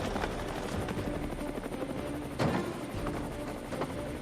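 Indian Air Force helicopters on a resupply run, a steady rotor chop and engine roar at moderate distance with a few sharper thuds, no voices.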